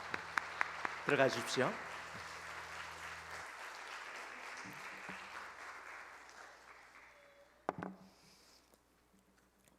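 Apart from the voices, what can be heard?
congregation applause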